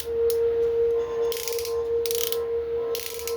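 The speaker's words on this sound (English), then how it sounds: "The shoulder ratchets are soft ratchets." Soft shoulder ratchet joints on a Transformers Superion figure click in three short clustered bursts over a steady background hum, close and distinct.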